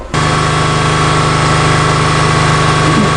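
A Subaru Forester engine runs loud and close, holding a steady, even drone with a constant vibrating hum and no clear rise in pitch, and no voices over it.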